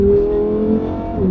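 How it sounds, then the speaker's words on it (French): A 640 hp V10 rear-wheel-drive car heard from inside the cabin, its engine holding a loud steady drone with a slight pitch dip and a light burble of exhaust near the end, no talking. "L'échappement est vraiment joueur"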